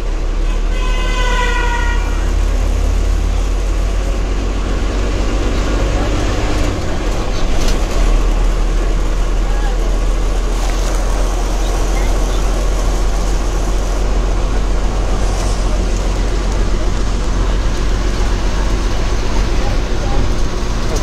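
The Kothuru-Langa bus at Kolluru, its engine a steady low rumble close by, with a horn toot near the start and continuous traffic-like noise throughout.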